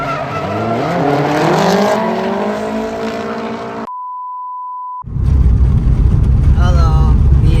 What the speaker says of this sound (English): I think Lino gonna practice donut